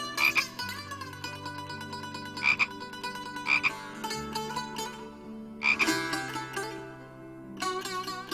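A chorus of frogs croaks in a loud, continuous layered drone, with several sharper bursts of calls breaking out at irregular intervals; no one speaks.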